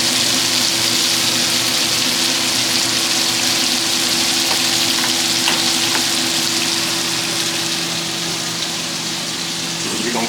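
Scallops pan-searing with a continuous loud, dense sizzle and hiss in the pan, steady throughout, with a few faint clicks and no voices.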